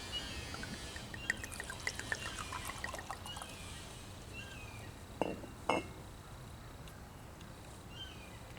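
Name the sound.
Teeling Irish whiskey poured into a Scotch whiskey glass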